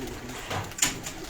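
Show pigeons cooing on a rooftop loft, a short soft coo close by with a brief sharp flutter or knock partway through, no talking.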